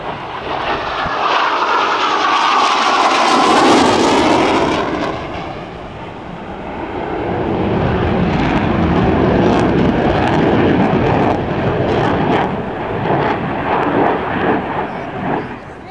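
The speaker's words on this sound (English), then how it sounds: "The Hornet and the Corsair." An F/A-18 Hornet and an F4U Corsair flying together at an airshow, a loud sustained roar of jet and propeller engines that swells, dips briefly, then builds again as the pair passes.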